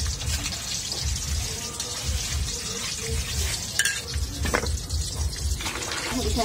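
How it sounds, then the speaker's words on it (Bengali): A gourd being washed with water in a home kitchen while khichuri is cooked, giving a steady splashing, trickling wash with faint stirring, close and continuous at moderate level, with no talk over it. "ডাঙরটা ধুয়ে নিই সুন্দর করে।"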